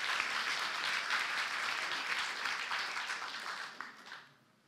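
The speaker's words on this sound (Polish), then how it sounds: "I za to się panu należą ogromne brawa." Audience applause in a hall, a dense, steady roar of many clapping hands that carries on for several seconds before quickly dying away.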